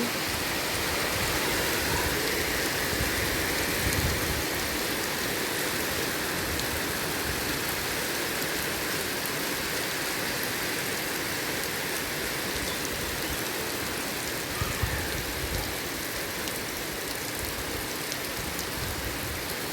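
Steady rain falls throughout, a dense, even hiss of drops pattering on surfaces with no voices.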